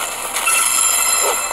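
Train wagons roll along in the Hunt Royale mobile game, a loud steady rumble with rail clatter and high squealing tones, heard alone without speech.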